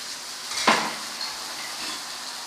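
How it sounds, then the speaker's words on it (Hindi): Chicken stock is poured into Kabuli pulao in a hot pan, giving one sharp splash and sizzle burst with a light metallic clink, then a quieter simmering hiss that fades, with no one talking. "और हाफ कप के जितनी हम इसमें चिकन स्टॉक ऐड करेंगे"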